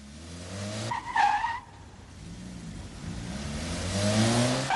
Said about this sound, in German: Der Wagen wird dabei 10-mal hintereinander von 0 auf 100 Kilometer beschleunigt und auf 0